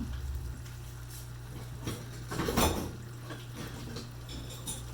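Large Pampered Chef chef tongs clink and scrape against a pan while turning a browning roast, a brief louder clatter in the middle over a low steady hum.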